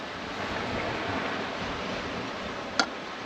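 Steady broadband wash of sea waves with wind, continuous and fairly soft, and a brief knock near the end.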